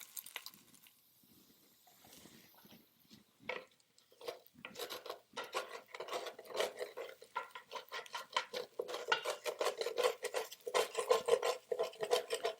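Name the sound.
cooked rice transferred and stirred into pan of vegetables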